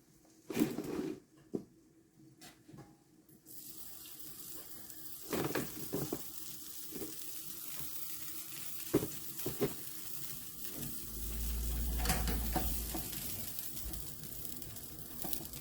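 A paratha fries in butter on a hot pan with a soft, steady sizzle, interrupted by occasional clinks and scrapes of a utensil, close up and with no talking.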